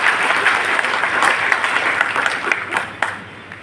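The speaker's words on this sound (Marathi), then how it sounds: "जोरदार टाळ्या एकदा या नेतृत्वाकरता झाल्या पाहिजे." A crowd of delegates at a national political convention gives loud, sustained applause, a dense wash of clapping that fades slightly toward the end.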